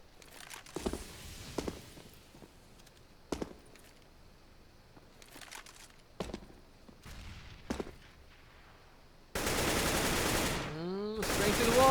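Counter-Strike rifle shots on Dust 2 punching through a wall, a scattering of sharp isolated cracks and short bursts spread across the clip, then a sustained loud burst of automatic fire near the end.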